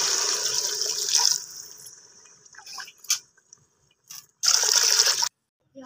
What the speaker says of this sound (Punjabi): ਹੁਣ ਇਹਨੂੰ ਪਾਉਣੇ ਪਾਣੀ, ਪਾਣੀ ਪਾ ਦਿੰਦੇ ਹਾਂ